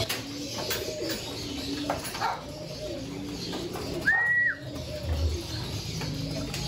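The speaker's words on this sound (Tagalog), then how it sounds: "ito na nga yung mga flyer ko, mababa na yung lipad kasi nga mag-iisang oras na sila lumilipad" Racing pigeons at a home loft coo in soft, repeated low phrases, with one brief sharper bird call cutting in near the middle; steady outdoor background hum underneath, no talking.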